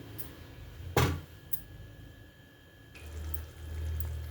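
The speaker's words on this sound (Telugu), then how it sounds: "రసం పోస్తున్నాను చింతపండు పులుసు పోసుకోకపోయినా ఇది కర్రీ ఇగురు కింద కూడా వండుకోవచ్చండి" Tamarind rasam is poured into an onion curry, a faint liquid splash and trickle that rises briefly and then settles into a low, steady pour and simmer, with no talking.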